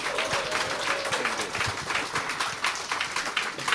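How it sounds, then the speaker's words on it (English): An audience applauding steadily, a dense wash of many hands clapping at moderate volume throughout, with no voices standing out. "Can everyone give a big applause?"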